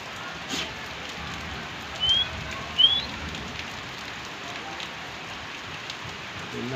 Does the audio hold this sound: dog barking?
no